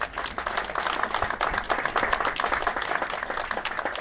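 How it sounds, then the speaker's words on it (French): An audience applauds warmly at a speech in Tence marking the Mallet 101 steam locomotive of a tourist train, dense steady clapping throughout at moderate loudness, with no voices over it. "on peut les applaudir très très chaleureusement déjà"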